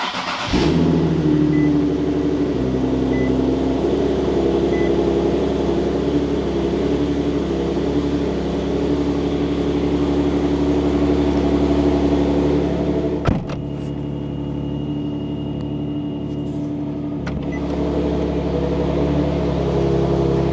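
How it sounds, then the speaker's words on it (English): A car engine in a garage turns over and settles into a steady, loud idle hum with a sharp click partway through, then runs on more quietly without voices. "then we'll start the car"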